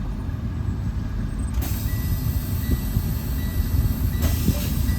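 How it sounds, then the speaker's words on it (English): The parking and trailer brakes on an idling truck cab release with air hissing. The engine makes a steady, heavy rumble close by, and a brighter hiss rises on top of it partway through. "I'm gonna release the parking and the trailer brake, all right? Yellow one first, red one second."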